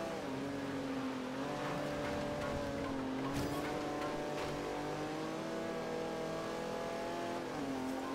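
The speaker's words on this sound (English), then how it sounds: "Drifting in the rain, not always the best thing to be doing" A car drifting on a wet road in the rain in Forza Horizon 2, its engine revving and holding a high, wavering note with brief bursts of tire noise, steady and fairly close, with no talking.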